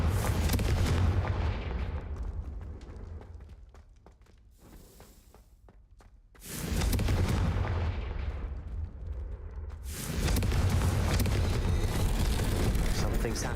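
Fire-spell explosions in Hogwarts Legacy, loud booming blasts filling the opening seconds, a quieter lull, then renewed heavy blasts near 6.5 and 10 seconds, with game voices mixed in.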